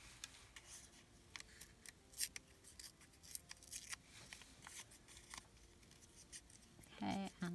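Paper ripped by hand around a small printed music ephemera piece for a scrapbooking project, a series of short, quiet tearing rasps and crinkles spread through the clip, with a brief louder rustle near the end.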